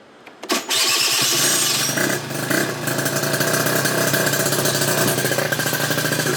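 Yamaha Zuma scooter with a 70cc Polini big-bore engine and new manifold cranking and catching almost at once, then revving and settling into a loud, steady, rattling two-stroke idle close by.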